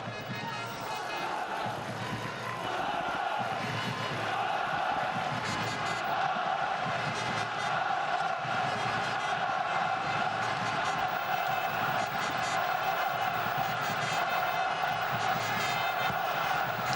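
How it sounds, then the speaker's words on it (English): A packed football stadium crowd roars without letup through a Champions League match between Sparta Prague and Barcelona, a dense, loud, distant wash of cheering with commentary voices running over it. "Crowd lifting the decibels even higher"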